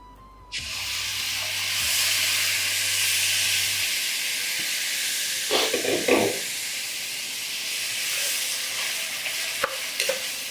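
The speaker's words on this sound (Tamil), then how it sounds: "இதை போட்டு இந்த தக்காளி வந்து ஒரு கொதி வரட்டும்." Pureed tomato hits frying onion masala for a mushroom curry, setting off a sudden loud sizzle that holds as a steady hiss, with a few stirring scrapes up close.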